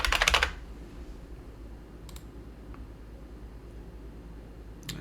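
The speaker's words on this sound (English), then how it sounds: "what we could do is just do find, type in Google" A quick burst of keystrokes on a computer keyboard opens the moment, followed by a couple of isolated clicks over a quiet room hum, close and fairly faint.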